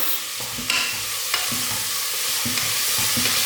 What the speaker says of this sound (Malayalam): ഇതുകൂടെ നമുക്ക് പാനിലോട്ട് ചേർക്കാം. നമുക്ക് നന്നായിട്ട് വഴറ്റിയെടുക്കാം.